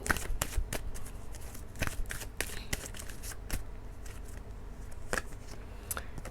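Romance Angel oracle cards are shuffled by hand in a series of crisp, close riffles and papery slaps with short pauses between them, alone with no talk.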